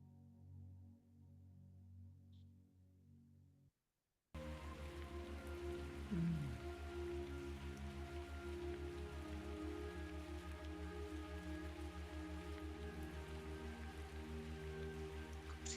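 Steady rain falls and patters on a surface, a dense continuous wash of drops that starts abruptly after a few seconds of low droning tone and then holds at an even level to the end, with no voices.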